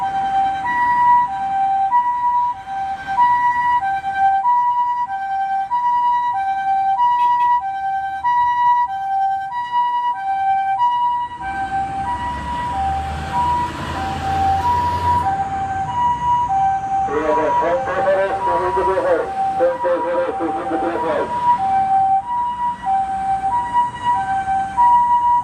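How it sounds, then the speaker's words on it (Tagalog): An ambulance or fire truck siren on a road in Japan, with a steady repeating two-tone wail and passing traffic rumble. The siren swells louder as the vehicle draws near, then keeps sounding. "naririnig nila ang siren ng ambulansya or bumbero"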